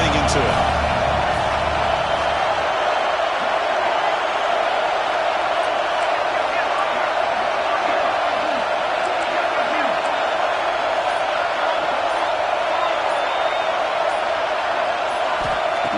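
A stadium crowd roars steadily in the NCAA 26 college football video game: a loud, dense, continuous wall of cheering noise that holds for the whole stretch without a break.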